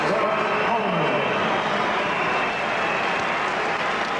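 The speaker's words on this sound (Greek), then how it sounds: "ακούτε και τα χειροκροτήματα και τις φωνές από την εξέδρα" Applause and shouts from the crowd in the stands of a basketball arena at the 1994 World Cup game between the USA and Russia form a dense, continuous wash of noise. A commentator talks over it.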